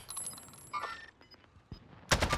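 Gunfire in the Warzone video game: a few scattered shots and thumps, then a loud burst of rapid fire at the very end, over a quiet game soundscape.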